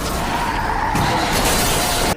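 A truck slams into a schoolgirl in the Zombieland Saga anime, a loud sustained skid and crash with a shattering burst, cutting off abruptly at the end.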